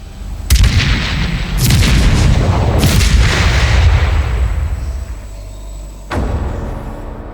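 Fort guns fire at Fort Lytton, a naval fortress, with several deep, heavy booms that roll on and echo for seconds before a final blast.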